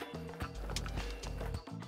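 Horses in the video game Bully: rapid hoof clip-clops pound close and loud for under two seconds, with a rough, breathy vocal texture among the beats.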